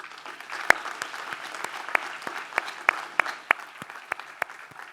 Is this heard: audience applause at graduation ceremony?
yes